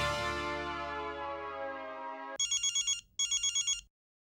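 A phone ringtone plays: a sustained descending tone, then two quick bursts of electronic ringing pulses, clear and close, with nobody speaking.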